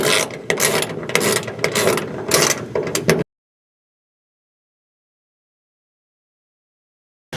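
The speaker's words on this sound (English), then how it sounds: "using a 1/2 inch wrench, tighten down the J-hook bolt" A 1/2 inch wrench ratchets a J-hook bolt tight on a side-mounted ADAPT Topside truck toolbox, giving a loud, close run of rapid clicking strokes for about three seconds before stopping.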